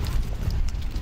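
Horse hooves clip-clop steadily on ground during dressage training near a castle, a dense, continuous patter of close, moderately loud footfalls with no talking.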